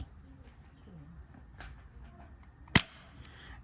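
A single sharp pop of a gel blaster M1911 pistol shot cracks out over quiet room noise, close and brief, with faint rustling before it.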